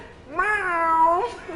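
A human voice imitates a kitten's meow, one drawn-out, wavering mew rising and falling in pitch, close and clear over faint background noise.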